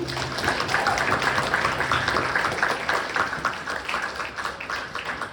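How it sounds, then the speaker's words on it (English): Audience applause at a high school hypnosis show featuring cheerleaders, a dense, sustained patter of clapping that slowly thins out over several seconds. "So give them a nice big round of applause on 1, 2, and 3."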